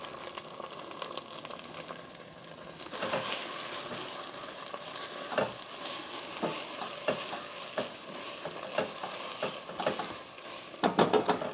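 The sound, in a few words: onions and Thai basil frying in curry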